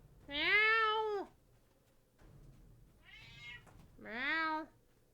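A cat meows three times: long, clear, wavering cries, the first and last loud and close, the middle one shorter and softer, with quiet gaps between them.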